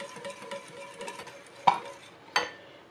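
A whisk stirs a thick cheese sauce in a bowl as oil is gradually added, a steady scraping churn broken by two sharper clinks against the side.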